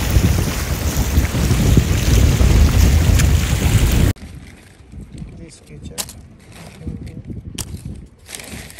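Outdoor wind gusts buffet the microphone in a loud, steady roar for about four seconds, then drop to a quieter breezy background with occasional rustles.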